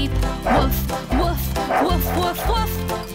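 A repeated, rhythmic bark from a cartoon farm dog in a children's song, with the woofing sung or voiced as an imitation over bouncy music.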